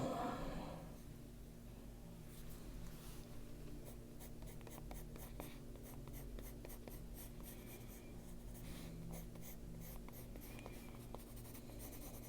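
Colored pencil scratches across paper in quick strokes, close and quiet, a dense run of short scratchy marks that goes on steadily with no talk.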